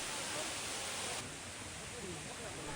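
A waterfall roars as a dense, even wash of rushing water, steady and fairly full throughout with no distinct voices over it.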